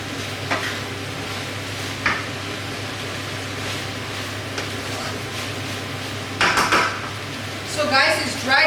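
Nigerian fried rice in a pot is stirred and scraped with a utensil: scattered soft clinks and scrapes over a low steady hum, with a louder cluster of metal-on-pot knocks near the end.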